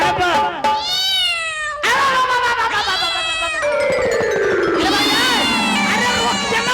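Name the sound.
cat meowing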